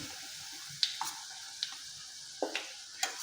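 Chili, turmeric, fenugreek powder and asafoetida stirred in a pan for a Kerala onam-style curry: faint background hiss with a handful of soft scraping clicks as the spoon moves, scattered and irregular.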